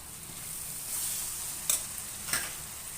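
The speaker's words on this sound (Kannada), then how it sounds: "ನಾನು ಇವಾಗ ಬೆಲ್ಲ ಹಾಕ್ತಾ ಇದ್ದೀನಿ, ಜೋನಿ ಬೆಲ್ಲ ನೋಡಿ." Jaggery going into gojju avalakki in a pan, a soft continuous sizzle with light stirring and a couple of faint taps or clinks, with no voices.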